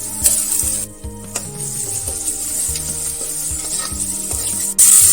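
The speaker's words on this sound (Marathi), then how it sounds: "छान मिक्स करून घ्यायचं आहे।" Ginger, garlic, coriander and green chili paste sizzles loudly as it is stirred and fried in a pan for an egg biryani, with a continuous hiss and spoon scrapes over background music.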